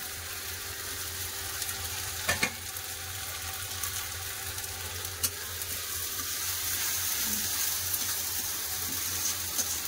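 Ginger garlic paste, chopped tomato and green chili fry in a pan with onions already browned red, a steady soft sizzle broken by a few sharp clinks of a utensil against the pan, with no talking.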